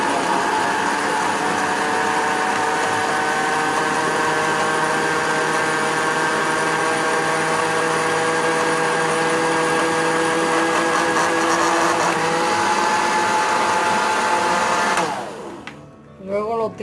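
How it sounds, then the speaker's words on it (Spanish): Mint leaves and olive oil churn in a blender, a loud steady whir whose pitch shifts partway through before the motor winds down and stops near the end. "Luego lo trituramos en la licuadora"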